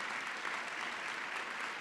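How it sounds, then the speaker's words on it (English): Steady, dense applause from an audience honoring a planning committee at a Latino celebration event, continuous and fairly even throughout with no pauses. "A round of applause for the planning committee."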